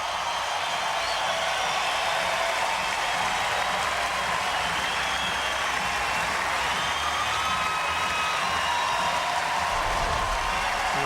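A tennis crowd at the 2004 US Open applauds Andre Agassi after his match against Ginepri, a dense, steady wash of clapping that holds evenly for the whole stretch without pause.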